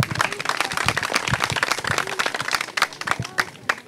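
Loud, dense applause from a school audience at a public school stage event in Dougoï, Maroua, continuous sharp claps close by for the whole stretch with faint voices mixed in.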